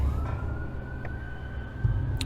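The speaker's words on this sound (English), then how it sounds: "Why with the sirens?" A wailing emergency siren in a video game sounds as a steady tone over a low rumbling background, moderately loud, with no one talking.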